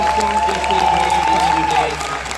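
Crowd applause for the players of a 1v1 tournament grand final, a dense steady wash of clapping and cheering with voices and a sustained tone running through it.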